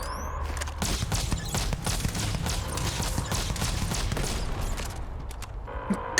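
Rapid gunfire in the space game Starfield comes as a dense, continuous fusillade of overlapping shots, loud and close, easing off near the end.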